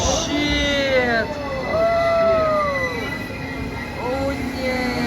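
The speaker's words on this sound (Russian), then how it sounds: "нас уже поезд подходит" A Lastochka passenger train pulling into a station in Sochi, wheels squealing loudly in long sliding pitches over a low rumble as it slows, close by.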